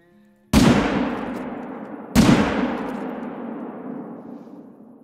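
Two loud, close gunshots fired at lions in theHunter hunting video game, about a second and a half apart, each with a sharp crack and a long, fading reverberant tail.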